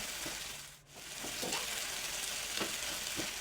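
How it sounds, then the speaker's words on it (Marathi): Sprouted moth beans sizzle and hiss in a pan, a quiet steady frying sound broken by a few soft scrapes and taps of a spatula as they are tossed. "मटकी आपण त्यामध्ये पूर्ण घालून घेतली आहे आणि परतून घेऊया"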